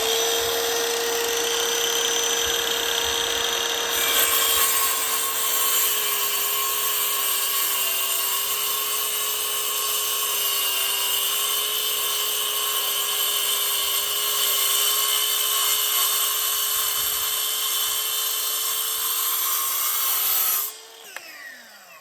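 A jigsaw cuts through wood, whining steadily for about twenty seconds, then a harsher rasp joins in before the blade stops abruptly at the end.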